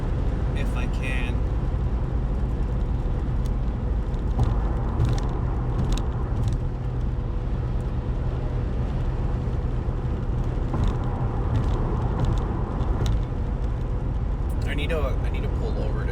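Inside a car driving on the road, a constant low engine and road rumble fills the cabin throughout, with faint rattles and brief passing noises on top.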